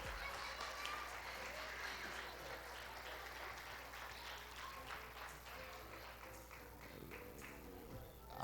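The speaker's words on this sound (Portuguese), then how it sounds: "Vamos aplaudir ao Senhor?" A church congregation applauding together during an evening missions service, a steady dense wash of clapping that holds evenly throughout, with faint voices mixed in.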